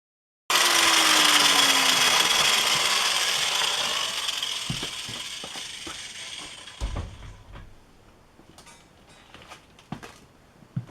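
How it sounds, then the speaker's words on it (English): A power grinder whines loudly and close while grinding metal off a drill gear box part, then winds down over several seconds, followed by scattered clinks and knocks of handling. "So I think what I'm going to do is just come in here and grind off a little bit of that"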